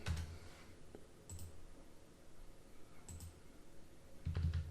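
Computer keyboard and mouse in use while drafting in AutoCAD, sparse soft clicks and light keystrokes in a few small bursts, faint and close in a quiet room with no talking.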